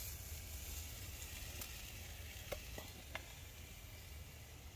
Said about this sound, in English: And dip the spam there and then fry it